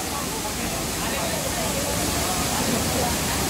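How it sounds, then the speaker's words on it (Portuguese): Kawasan Falls, a waterfall with a strong current, roars as a steady, dense wash of broadband noise close by, constant and unbroken for the whole stretch. "Agora a gente vai poder finalmente nos aproximar da cachoeira."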